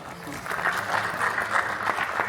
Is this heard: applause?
yes